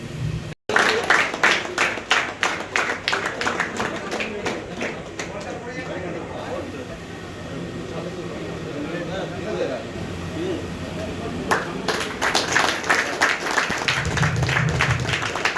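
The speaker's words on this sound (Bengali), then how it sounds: "জোরে হাততালি একটা এই সুন্দর অনুষ্ঠানের জন্য" An audience at a youth football coaching centre's opening ceremony breaks into loud, sustained clapping, with someone talking over the middle stretch before the applause swells again at the end.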